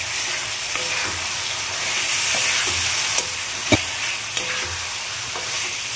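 Fried turnip and potato sizzle in a spice masala, a steady close hiss broken by a few sharp stirring clicks and scrapes, with no voices.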